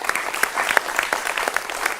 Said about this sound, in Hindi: जोरदार तालियों से स्वागत कीजिए भावेश झा।